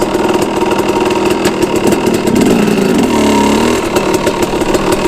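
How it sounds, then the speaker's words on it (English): A KTM 250 SX two-stroke dirt bike engine idles in first gear with its carburetor jetting being tuned. It makes a loud, close, buzzing putter with a slight swell in pitch midway, and no talk over it. "it would idle in the first gear and just go like that"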